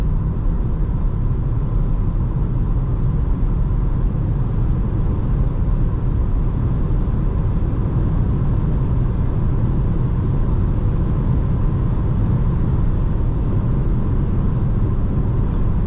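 Peugeot e-208 Allure 2021 electric car floored in sport mode toward 150 km/h at night, with a loud, constant low roar of wind and tyre noise from the mirrors and windshield filling the cabin without break.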